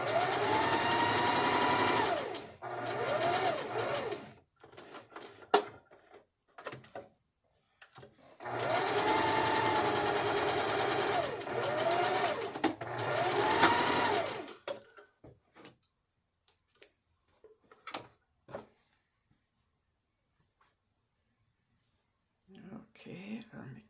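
A home sewing machine runs in two long bursts of rapid, steady stitching, practising shapes with a couple of back stitches, the machine shaking as it sews, then stops for quiet handling sounds and brief stops.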